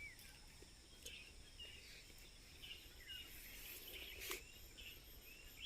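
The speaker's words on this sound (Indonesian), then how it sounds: "Yang terdengar nyaring ya, suara-suara kicauan burung ini" Faint chirps and calls of birds scattered over a steady hum of insects outdoors on the slopes of Mount Merapi, Indonesia, quiet and somewhat distant, with no voices.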